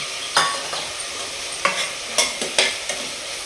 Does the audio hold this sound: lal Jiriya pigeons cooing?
no